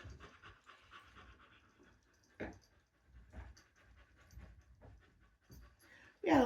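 Dogs pant softly nearby with an occasional faint whimper, quiet and rhythmic, ending in a sudden loud burst of noise.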